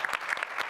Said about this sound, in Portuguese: queria uma salva de palmas para o Rodrigo